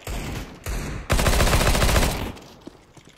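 Video game gunfire in a competitive match: a sharp short burst followed by a longer loud rattling volley of rapid shots, then fading with a faint single crack near the end.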